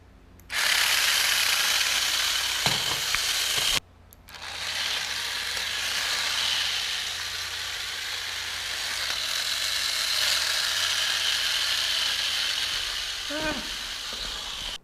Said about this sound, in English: I had actually wired the motor backwards, so it kind of just took off going that way